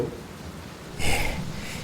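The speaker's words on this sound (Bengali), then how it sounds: "এ বৃষ্টি আজ আর থামবে না, আজ আর থামবে না।" Heavy rain used as a sound effect in a Bengali horror audio drama, a soft wash of rainfall that swells suddenly into a louder, hissing downpour partway through, with no voices.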